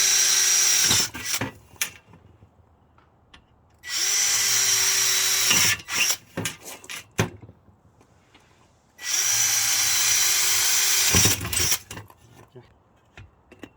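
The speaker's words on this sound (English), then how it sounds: "I'm just kind of preliminary putting in some screws here" A power drill driving screws through pre-drilled holes into a rotten camper wall, three sustained whirring bursts of a couple of seconds each, separated by clicks, handling knocks and brief pauses.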